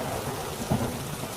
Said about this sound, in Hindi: तभी अचानक फिर से भयंकर बारिश शुरू हो जाती है।